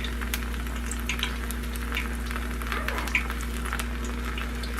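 Battered fish frying in a pan gives a steady, close sizzle with faint crackles and pops and a constant low electrical hum beneath, with no talking.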